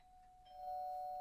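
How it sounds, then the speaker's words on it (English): A faint electronic doorbell tone starts softly and then rises into a sustained two-note ring, alone and fairly distant. "I'll ring the bell."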